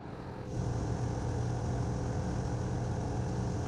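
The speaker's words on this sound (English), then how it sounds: "I'm sanding the bowl inside and out." A power tool starts up after a brief moment and hums steadily with a constant mechanical whir, sanding a turned punky maple bowl inside and out.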